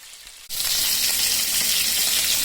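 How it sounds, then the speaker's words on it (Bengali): After a brief quiet moment, tilapia fish pieces start lightly frying in oil and a steady, close sizzling hiss takes over and continues evenly to the end. "হালকা ফ্রাই করতেছি।"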